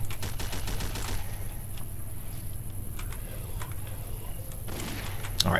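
A shotgun fires in the zombie shooter game Zomborg: a quick burst of sharp shots, then a few separate blasts spaced a second or so apart over a constant low hum, fairly faint overall.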